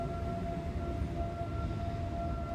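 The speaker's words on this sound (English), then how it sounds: "The sirens scream on and on for many minutes." Neighborhood sirens in Williamsburg, a steady sustained wail held on two tones over a dense low rumble, continuous and moderately distant.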